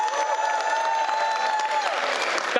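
A crowd at a game awards ceremony claps steadily with some cheering, while a speaker's voice carries over the applause.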